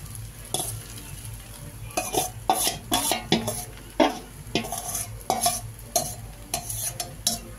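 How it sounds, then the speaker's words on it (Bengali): Chicken chow mein with vegetables fries in a pan while a utensil scrapes and clanks against the metal in repeated sharp strokes, over a steady sizzle close up. "এবার নুনটাকে দিয়ে আমি মিক্সড করিয়ে দিচ্ছি"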